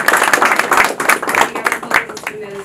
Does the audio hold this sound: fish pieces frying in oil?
no